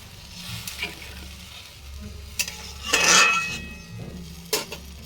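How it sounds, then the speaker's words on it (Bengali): Fish curry gravy bubbles in a pan while a utensil stirs and clinks against the metal, with a soft sizzle underneath and a few sharper scraping bursts, fairly quiet and close. "ঝোলটা ফুটে গেছে"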